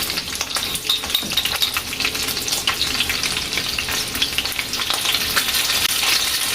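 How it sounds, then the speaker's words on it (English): Salmon fries in a pan with a close, steady crackling sizzle and sputtering pops that carry on throughout, with no talking. "And then we fry it."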